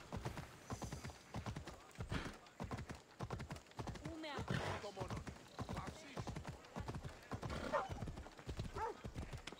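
A horse gallops in Assassin's Creed Odyssey, with rapid rhythmic hoofbeats throughout, a whinny partway through, and someone talking over it.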